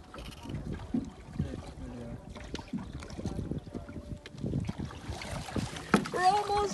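Canoe being paddled against waves on open water, with quiet water splashes and wind noise on the microphone while people talk intermittently nearby.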